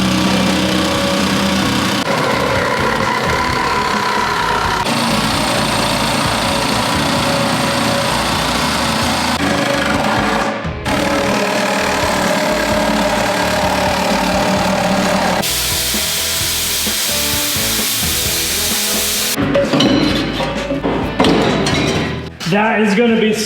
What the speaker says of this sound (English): I think I'm gonna try and start out cutting with the Sawzall